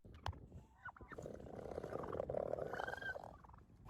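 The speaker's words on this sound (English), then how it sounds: "He told me that you can squeeze their airbags to make them burp" Male turkey giving a rough, gurgling burp as its air sac is squeezed by hand, a sustained low rumbling purr for about three seconds, close by, with a few short clicks before it.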